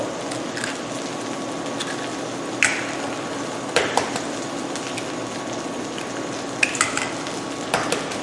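Hash browns and bacon frying in a pan give a steady, soft sizzle throughout, broken by a few light clinks of utensils against cookware; no one speaks.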